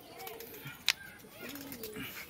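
Pigeons perched on bricks give soft, brief coos amid outdoor ambience, with a sharp click near the start and people talking quietly in the background.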